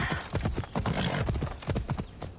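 Horse galloping in the video game Assassin's Creed Odyssey: quick rhythmic clip-clop of hooves, fairly close and steady over a few seconds, with faint game ambience behind.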